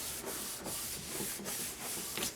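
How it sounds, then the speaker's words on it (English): A hand rubs firmly over a patterned paper card purse made with a Cricut Explore, a steady dry scuffing that repeats in close, even strokes with no talking. "I'm just going to give that a rub again."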